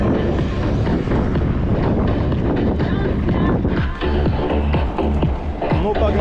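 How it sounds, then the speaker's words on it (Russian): Strong wind buffets the microphone outdoors in Crimea on a hot day, a loud, continuous rumbling roar with gusty fluctuations throughout. "Ветер."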